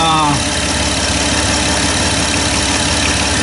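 A car engine idling loudly and close, a steady rumbling hum with a faint rhythmic knock, in a car with a camshaft position sensor fault; a brief voice is heard at the start.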